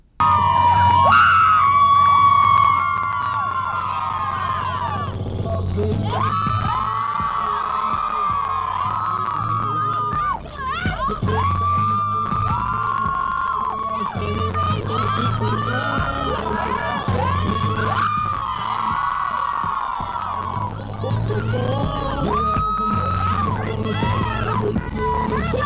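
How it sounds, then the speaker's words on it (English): A crowd screams, whoops and cheers at a competition, with loud voices rising and falling in repeated bursts alongside shouting over the whole stretch. "I apologize for all the screaming in the background of that video."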